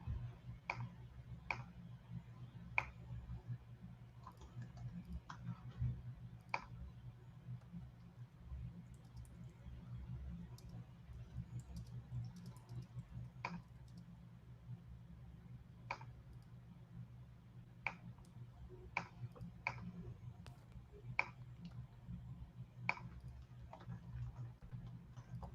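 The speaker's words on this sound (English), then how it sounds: "You can just hear the sounds of clicking. Click, click." Sparse, faint clicks tick at irregular intervals over a quiet low background hum during a live stream, with no talk over them.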